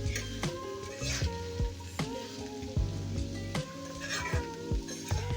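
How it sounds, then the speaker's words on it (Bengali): Chichinga with onion, salt and turmeric is stirred in a sizzling pan, the sizzle steady and close, with repeated scraping and clinks of the spoon against the pan at a regular rhythm. "দিয়ে দিলাম পরিমাণ মতো লবণ আর হলুদ দিয়ে এখন সব কিছু একসাথে মিক্সড করে নিচ্ছি"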